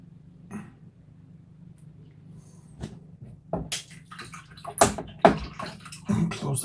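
A paintbrush is rinsed in a small pot of water after painting a miniature figure. Quiet clinks give way to bursts of swishing and splashing near the end.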